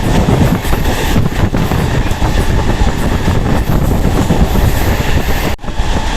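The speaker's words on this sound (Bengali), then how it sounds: "ট্রেনের স্পিড এইমাত্র একশো পেরোলো শিউরি থেকে হন্ডারের পর একশো কিলোমিটার স্পিডে পেরোচ্ছে দেখে নাও" A MEMU express train running on the Suri–Sealdah line at over 100 km/h gives a loud, constant rumble with rhythmic wheel clatter, heard close from on board, alone without talk.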